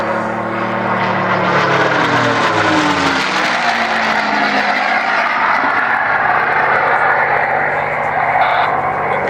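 A North American P-51D Mustang fighter performs a flying display at an air show, its piston engine drone swelling and shifting in pitch as it passes, steady and fairly loud under a voice talking.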